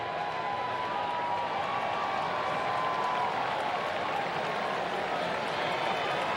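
A large baseball crowd at Wrigley Field during a Mets at Cubs game fills the air with a continuous roar of cheering and booing, steady and distant, while commentators talk over it.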